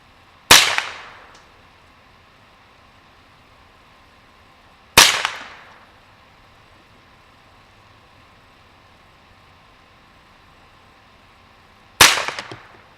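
Three sharp, loud cracks from a Ruger 10/22 rifle during an outdoor shooting test, spaced several seconds apart, each ending in a short fading echo, with quiet background between the shots.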